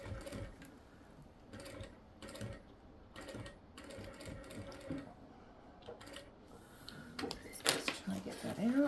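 A sewing machine stitching fabric pieces for a fabric iron caddy, running in short repeated bursts of mechanical whirring with pauses between, and a louder stretch of handling noise near the end.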